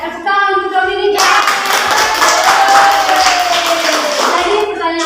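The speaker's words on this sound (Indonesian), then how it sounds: "tepuk tangan untuk Dominika" A class in an acid-base chemistry lesson claps for a student. The loud, lively clapping starts right after a teacher speaks, holds for a few seconds, then fades as the teacher talks again.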